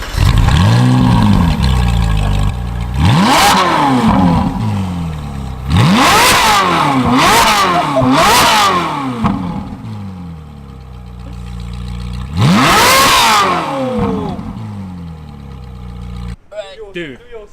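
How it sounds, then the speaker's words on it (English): Supercar engines in Hong Kong rev hard in a series of loud, rising-and-falling bursts, roughly five sharp blips with deep rumbling between them, close by, with people talking faintly in the background. "Rev time."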